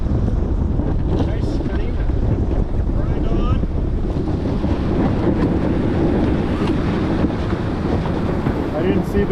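Strong gusting wind buffets a J109 sailboat racing in high wind, with broadband roar and microphone rumble alongside water rush; steady and loud throughout, no talk.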